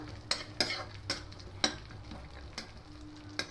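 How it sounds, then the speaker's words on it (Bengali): Soft sizzle of raisins frying in ghee under a series of sharp spoon taps and scrapes against a pan, irregular clinks about every half second, close by. "দিয়ে হালকা করে একটু এভাবে নেড়ে চলে নেবো বেশি ভাজবো না"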